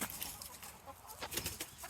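Backyard hens clucking in soft, scattered bursts, with a few louder calls toward the end, heard close and fairly quiet over faint ambient noise.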